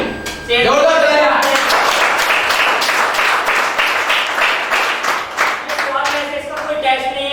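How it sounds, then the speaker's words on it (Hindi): An audience at a product meeting claps loudly and steadily after a short lead-in, the applause holding dense and close for several seconds before thinning slightly near the end. "जोरदार तालियां"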